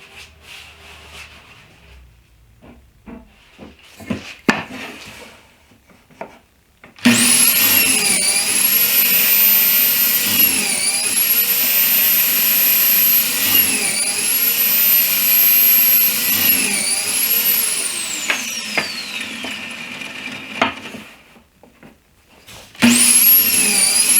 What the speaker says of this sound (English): So I'll get my pocket hole machine set up.